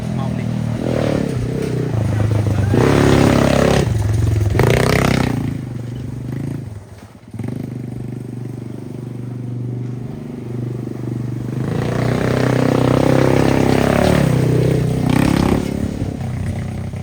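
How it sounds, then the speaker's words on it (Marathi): Engine of a quad bike revving and roaring nearby, rising and falling as it rides past, with people talking over it. "माऊली त्या टोकापर्यंत गेला बघा हे टी व्ही बाईक घेऊन"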